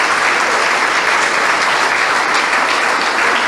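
A church congregation breaks into dense, continuous applause, a loud, steady wash of many hands clapping with no voices standing out.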